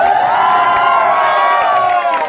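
A roadside crowd gathered for a motorcycle ride event in Assam claps and cheers loudly, with excited shouting and voices layered over the noise, sustained and close for a couple of seconds.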